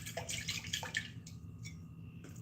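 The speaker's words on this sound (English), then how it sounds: "so I'm going to rinse them, give them a good rinse." Soaked grains are rinsed in water by hand, with sloshing and splashing bursts followed by quieter trickling and dripping, close by and without talk.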